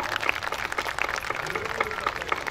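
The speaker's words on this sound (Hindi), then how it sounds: "एक बार आप लोग ताली बजा दीजिए" Dense, steady applause from an audience at a Hindi kavi sammelan poetry gathering, a continuous patter of many hands clapping with scattered sharper claps throughout.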